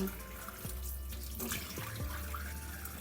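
Meat bones being washed under a running kitchen tap, with a steady stream of water splashing into the sink and a few shifting splashes as the bones are moved about, close and continuous.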